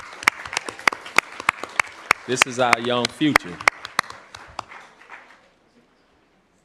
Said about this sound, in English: We should clap for the mayor.